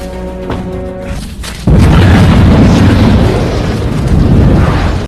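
Explosives detonated on an alien spaceship in a western sci-fi film erupt in a sudden, massive boom that stays loud and rumbling for several seconds after a quieter, tonal opening.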